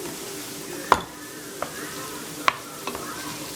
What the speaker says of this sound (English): just kind of mix the pasta in with the pesto